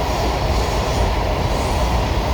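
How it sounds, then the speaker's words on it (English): A Washington Metro 7000 series train runs at speed, filling the car with a loud, steady rumble and broad rail roar, with faint wheel squeal and no talking. "7000 series train that I have been on"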